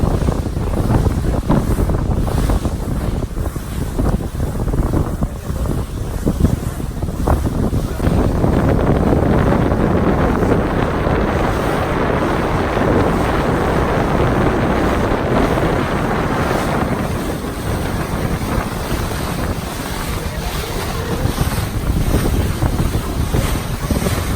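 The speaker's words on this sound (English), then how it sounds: "It's very windy out." Strong wind on West Lake Okoboji buffets the microphone in a constant loud roar, with gusty rumbling throughout and no letup.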